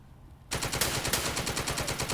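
Machine gun fire in The Troop war game, with UK forces opening up on an enemy unit: after a brief quiet moment, a rapid continuous burst of shots starts abruptly and rattles on loudly to the end.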